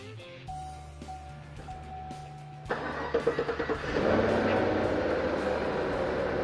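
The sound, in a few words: car engine with Edelbrock E-Force supercharger starting up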